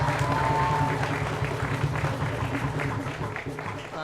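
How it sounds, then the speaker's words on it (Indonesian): An audience at a school event at SMA Negeri 9 Palembang breaks into applause, a sustained wash of clapping from a crowd filling the space, with some voices mixed in underneath. "Tepuk tangan Bapak Ibu ya."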